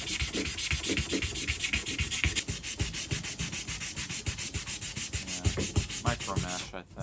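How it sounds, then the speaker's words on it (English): Sanding pad rubbed over a surface during a restoration, in quick, rhythmic back-and-forth strokes that rasp steadily and close by without pause. "Or maybe that's a sanding pad."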